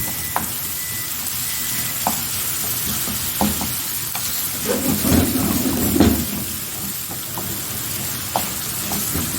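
Tomato paste and tomatoes being stirred and mashed in a hot pan, a steady sizzle with occasional sharp scrapes and clicks of the utensil, and a thicker squelching stretch midway; no talking.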